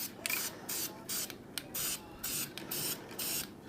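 Bursts of aerosol spray paint coating Honda Spree scooter parts flat black, a series of short hissing spurts with brief gaps, close and steady in rhythm.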